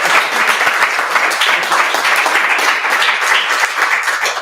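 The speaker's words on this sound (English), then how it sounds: "who can we just get a massive round of applause for Rob?" An audience at an end-of-project event claps loudly and continuously for a guest filmmaker, dense sustained applause from a room full of people.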